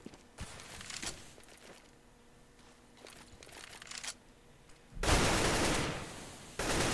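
Counter-Strike gunfire during a competitive match on Mirage: faint scattered pistol taps early on, then a loud burst of heavy firing that stops briefly and starts again.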